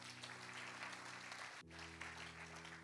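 Congregation applauding during a French-language church service, a dense wash of clapping filling the room steadily throughout, with a brief dip and a sustained organ or keyboard chord beneath.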